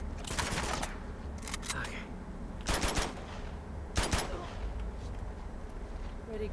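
Gunfire in the video game Uncharted 2: Among Thieves: several short, sharp bursts of shots in clusters against a low, continuous game background, with quieter clatter between them and no clear talk.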